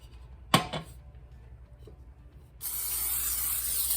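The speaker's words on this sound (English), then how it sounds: "So spray your pan real good, all up the sides." Cooking spray hisses into a bundt pan in a kitchen, a short burst near the start and then a steady, close, loud spray for the final second and a half.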